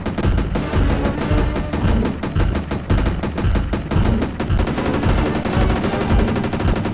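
Rapid, dense machine-gun fire from the SNES game Jurassic Park 2: The Chaos Continues, a loud unbroken barrage of shots layered over game music with no pauses.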